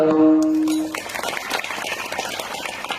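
A kirtan audience bursts into loud, sustained clapping after a held sung or played note fades, the applause dense and continuous through to the end.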